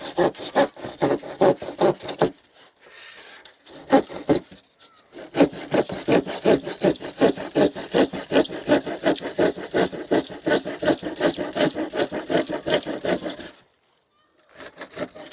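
A hand saw cuts back and forth through insulation bricks on a construction site, loud rhythmic rasping strokes running steadily with a couple of short pauses, a voice breaking in briefly.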